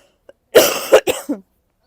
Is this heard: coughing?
yes